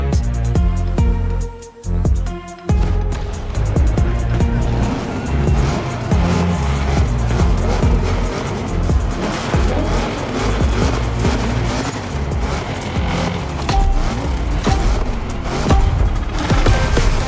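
A Caprice donk with a killer engine note races in The Crew Motorfest, loud and continuous with roaring revs, squealing tires and skids, plus a brief dip in the racket early on.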